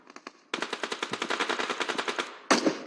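Automatic gunfire in PUBG Mobile at a SEA Games team match: a short burst, then a long, loud, rapid string of evenly spaced shots and a final heavy blast, with no voices.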